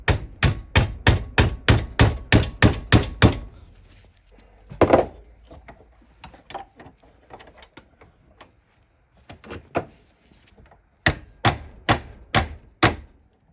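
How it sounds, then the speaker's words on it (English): A small hammer strikes a pin through a Hillman Imp gear stick clamped in a vice, ringing out in a rapid run of sharp metallic taps, then sparser light knocks, and another quick volley at the end. "we're now going to try and drive the pin through very, very carefully"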